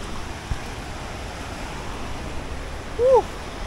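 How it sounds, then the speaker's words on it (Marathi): Continuous rushing surf of sea waves washing against the rocky shore at Uran beach with some wind noise, plus a brief high-pitched call near the end. "इथं मस्त समुद्राच्या अशा लाटा येत आहेत. आवाज तुम्ही ऐकताय पाण्याचा, किती भारी येतोय"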